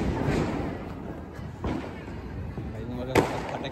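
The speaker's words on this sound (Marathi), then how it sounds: "फटाके फुटताला." Firecrackers burst outdoors during Diwali, with several sharp cracks spread across a few seconds over a constant background rumble. The sharpest crack comes near the end, and muffled voices are heard.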